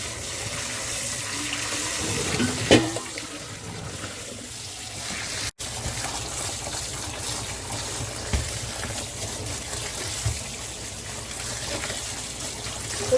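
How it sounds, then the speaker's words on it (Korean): Cold tap water runs steadily over cooked noodles being rinsed in a kitchen sink, a continuous splashing hiss with occasional clatters of handling, heard close with no talking. "국수가 다 돼서 찬물로 헹궈줍니다."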